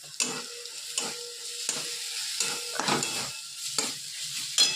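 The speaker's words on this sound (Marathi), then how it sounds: "कांद्याचं वाटण मस्त फ्राय करून घेते." Onion paste with turmeric fries in a pan with a crackling sizzle, and about seven rhythmic stirring scrapes come through loud and close.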